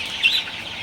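A brief chicken call rises over a steady hiss, with soft clucking close by for under a second, from farm chickens perched on a bamboo pole.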